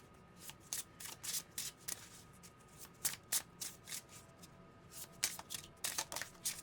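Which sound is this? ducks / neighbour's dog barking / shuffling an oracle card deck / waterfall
shuffling an oracle card deck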